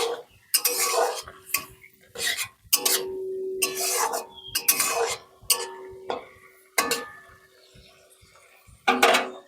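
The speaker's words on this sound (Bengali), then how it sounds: "একটু নেড়ে দেব।" Spoon stirring spicy fish roe curry in a metal pan, close scraping and clinking strokes in repeated bursts with short pauses, with a faint sizzle beneath.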